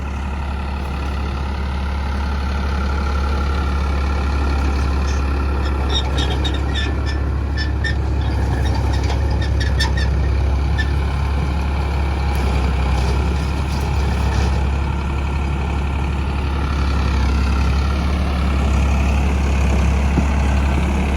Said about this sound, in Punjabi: 14-1500 ਚੱਕਰ ਤੇ ਚੱਲਦਾ 2 ਸਪੀਡ ਫਾਰਮ ਟਰੈਕ 60